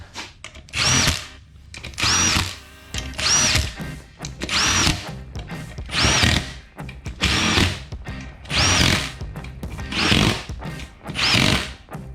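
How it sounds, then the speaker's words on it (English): Repeated bursts of a power drill whirring, about seven short runs with brief pauses between them, close and loud, tightening down a beadlock ring on a wheel. "Kind of got it just right with the drill."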